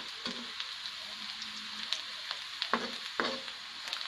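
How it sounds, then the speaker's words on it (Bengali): Food sizzles steadily in a pan, a close, even frying hiss with occasional sharp pops and clicks of stirring scattered across it. "আর একটু হোক ভাজা ভাজা।"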